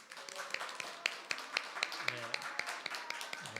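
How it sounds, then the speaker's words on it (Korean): A church congregation claps to welcome a newlywed couple: scattered, uneven claps ring out through a hall, with a voice speaking over them. "인사할 때 박수로 환영해 주시기를 바랍니다"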